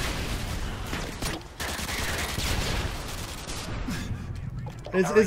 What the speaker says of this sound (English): This is like artillery warfare right now.